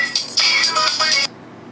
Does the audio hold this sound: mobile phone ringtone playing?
yes